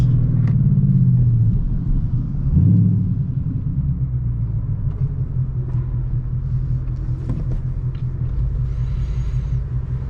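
A loud C&L axle-back exhaust on a Ford Mustang GT rumbles at idle with a deep, steady low drone, swelling briefly in a short rev before settling back to a constant burble.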